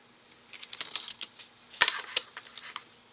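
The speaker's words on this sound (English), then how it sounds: "I'm shuffling the cards now." Tarot cards are shuffled close by, a faint, quick patter of papery riffles and taps in short uneven bursts, with one sharper snap in the middle and no talking.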